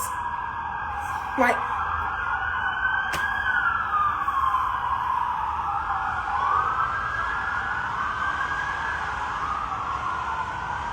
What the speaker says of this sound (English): I don't know if this is a high-speed chase or if this is the ambulance.